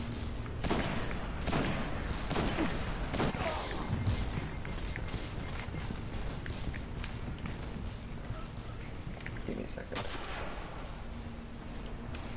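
Supremacy sniper rifle shots ring out in a Destiny Nightfall strike firefight, several loud sharp cracks spread across the stretch amid continuous gunfire and battle noise, with players' voices faintly in the mix.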